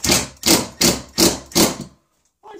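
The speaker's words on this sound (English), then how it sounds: "why do you use an impact drill for this for?" An impact drill drives screws into a shelf being repaired, hammering in five loud, evenly spaced bursts at close range, then falling silent.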